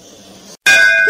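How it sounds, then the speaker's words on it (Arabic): A school bell rings loudly in a cartoon, a bright metallic clang that rings on with sustained tones after a brief gap of silence, close and alone. "يلا بقى عشان الجرس ضرب"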